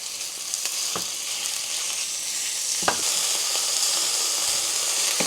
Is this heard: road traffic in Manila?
no